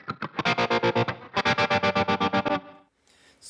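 A distorted electric guitar through a Valeton GP-200LT with a modulation effect placed before distortion chugs a rapid, choppy rhythm of evenly pulsed chords, pauses briefly, resumes, then cuts off into a faint wash of effect.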